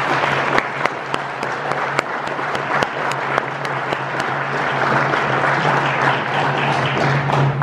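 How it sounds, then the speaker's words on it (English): An audience at an evening film screening applauds a group of students, loud sustained clapping with a few sharp close claps standing out and a low steady hum running underneath. "if we could get maybe a round of applause for those 6-7 students at Lakeview School"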